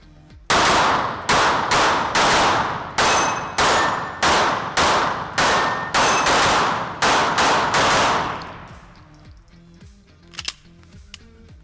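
Pistol shots fired at steel targets during a live-fire drill, about fifteen loud, sharp reports in quick succession with ringing metallic tails, then the firing stops and a few faint clinks follow.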